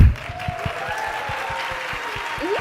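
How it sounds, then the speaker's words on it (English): An audience claps along at a live stage show greeting a Tinker Bell fairy. The hand claps come as a steady, evenly spaced rhythm under sustained musical tones and sliding whistle-like sounds. "Come on, clap your hands!"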